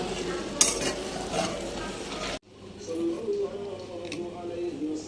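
Small fapsa fish stir-fry in a hot pan with a steady sizzle and scraping stirs. A sharp utensil clink comes early, then the sizzle drops to a quieter, lower simmer with light ticking.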